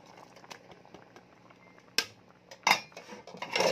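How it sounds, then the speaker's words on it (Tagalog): A utensil clinks and scrapes against a pan while fried tofu is stirred, quiet at first and then sharper clanks near the end. "Haluin ko lang"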